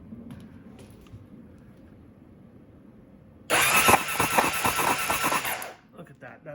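A 1986 Suzuki GSX-R 750 engine, spark plugs removed and carburetors flooding fuel, cranks over with a loud, fast rhythmic churn of the starter for a couple of seconds, following quieter background sound and a voice.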